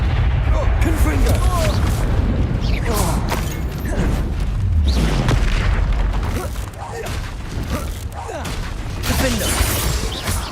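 Explosive Confringo curse blasts and other spell effects in a Harry Potter video game, a dense, continuous barrage of booming bursts and rumbling impacts with whooshing streaks, loud and busy throughout with no pause.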